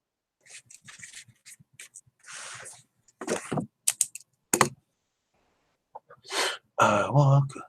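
Typing on a computer keyboard makes short clusters of sharp clicks, while a person speaks and makes a few other sounds nearby in an otherwise quiet room.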